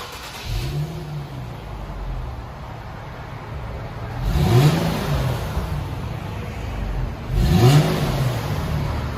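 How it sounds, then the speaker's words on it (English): A stock Infiniti G37X with its 3.7L V6 and factory exhaust, two resonators and two mufflers, idles quietly, then is revved in three short blips that each rise and fall, with the later two louder than the first. "we got an Infiniti G37X. This is what it sounds like before."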